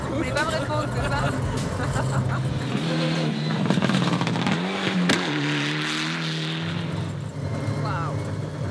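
A car being driven fast during a rally, its engine revving and shifting through varying pitches under continuous talk and crowd-like voices, loud and close from inside the vehicle.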